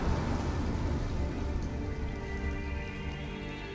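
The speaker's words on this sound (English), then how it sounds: "it's pouring rain" Heavy rain pouring, a dense, steady wash of hiss and patter that stays loud and unbroken throughout, with no voices.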